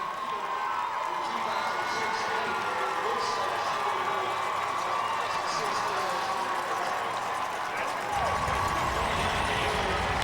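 A large crowd cheers along the Boston Marathon finish stretch for a lone runner, a broad, sustained roar under continuous talk, growing fuller toward the end.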